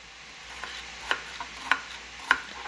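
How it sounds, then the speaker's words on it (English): A light yellow onion being cut on a board, three or four crisp knife taps spaced about half a second apart, close and fairly quiet, over a faint background hum. "Alright, I'm going to cut up an onion."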